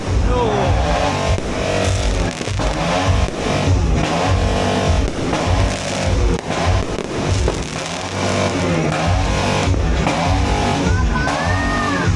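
A motorcycle revs loudly at a New Year celebration, its engine rising and falling in repeated bursts while excited voices shout over it.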